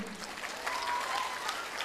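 Audience clapping together at a Women's Day gathering of parents, a steady dense patter of many hands filling the whole short stretch.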